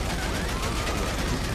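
Rapid gunfire from a Tommy gun, a .45 caliber weapon, in the video game GTA Online, a dense continuous burst of loud shots running the whole time with a faint voice underneath.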